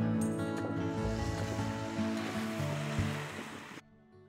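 Baltic Sea waves wash on the shore at Ustronie Morskie in May, heard as a steady broad surf roar with wind buffeting the microphone, then fading out sharply near the end.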